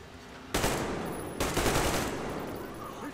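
Gunfire in the Metro Exodus shooter game, two heavy broadband bursts of shots sounding close and loud, each one sustained for most of a second or longer against a steady game background with no speech.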